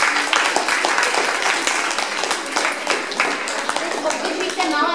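An audience at a school talent show claps for the performers in a dense, steady burst of applause, with voices mingling beneath it.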